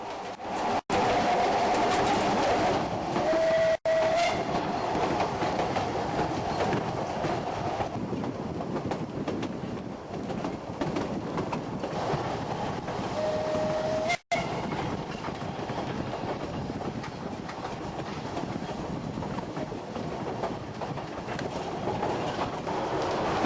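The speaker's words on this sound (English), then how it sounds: "It's one of Wales's best loved great little trains." A Ffestiniog Railway narrow-gauge steam train in Wales rolls along steadily with a continuous carriage rumble and rhythmic wheel noise, fairly close and loud throughout; no whistle stands out clearly.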